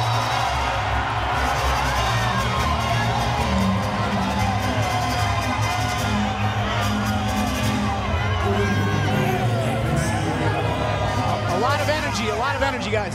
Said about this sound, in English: Deafening at the MGM Grand Garden Arena, Las Vegas. Listen to this crowd.